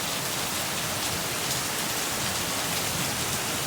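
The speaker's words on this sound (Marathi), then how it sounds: "पावसाचा जोरही तुम्ही म्हणजे पाहू शकता" Heavy monsoon rain pours down on a Mumbai street, a dense steady hiss of rain drumming on surfaces that fills the whole stretch evenly, with no voices and no breaks.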